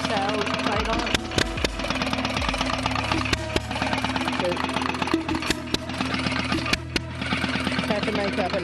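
A 27-liter Rolls-Royce tank engine with its original style plate runs with a heavy, steady mechanical clatter and rhythmic knocking, loud and close, with a few sharper metallic bangs layered over the drone.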